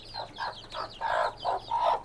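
An Aseel hen clucks in a quick series of six sharp calls, close and fairly loud, with brief pauses between them.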